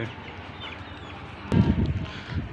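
Chickens in a coop setup cluck softly, with a short burst of louder, low clucking and rustling after a quiet start.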